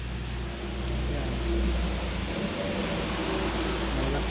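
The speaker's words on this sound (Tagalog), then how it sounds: "Lakas ng ulan." Heavy rain pours down in Camarines Sur in April, a dense, loud, unbroken hiss with low rumbling underneath and no pauses.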